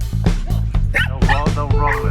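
Dogs outdoors near a dead duck bark, yip and whimper in short repeated bursts, close and loud, with a person calling to them between the sounds.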